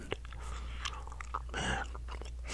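Bubble gum chewed close to the microphone, with soft wet smacks and squelches in an irregular rhythm and one louder crunchy burst partway through, with no talking.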